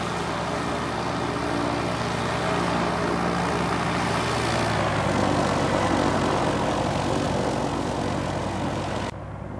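A Piper Arrow III propeller plane in the X-Plane 11 flight simulator roars past in a loud, sustained engine drone whose pitch drops as it passes, then cuts off abruptly.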